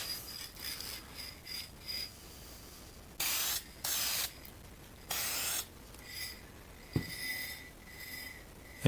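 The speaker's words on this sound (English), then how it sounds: "tip on his Minwax fast drying polyurethane" Minwax fast drying polyurethane sprays from a spray gun onto a car in light passes, giving short hissing bursts, several brief ones followed by a few longer blasts, close and moderately quiet.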